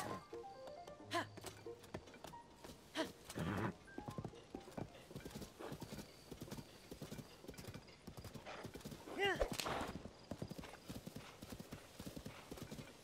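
Horse hooves clip-clop in the video game Zelda: Tears of the Kingdom, with an irregular run of close hoofbeats and a brief whinny near the middle.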